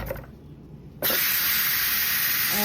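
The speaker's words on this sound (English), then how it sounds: "Now I'm going to release the steam from here and" Steam bursts from the valve of a cooking pot of pozole rojo, a loud, steady broadband hiss that starts abruptly after a second of quiet kitchen noise and continues unbroken.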